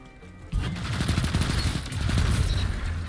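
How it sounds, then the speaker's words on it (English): Rapid automatic gunfire from a Rufus's Fury rifle in a first-person shooter game bursts in after a short pause and keeps up a loud, dense, continuous rattle to the end. "I shot this thing out of the air."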